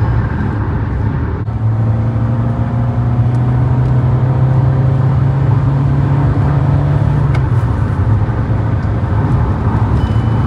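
A Kia Sonet 1.5 diesel with a manual gearbox cruises at very high speed near 140 km/h, with a steady loud engine drone and heavy road and wind roar heard from inside the cabin, no speech.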